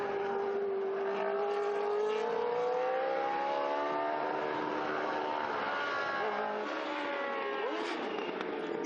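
A red and white Surtees historic race car at the Estoril Classics roars past on track, its loud, sustained engine note rising and shifting in pitch as it charges through over the curb.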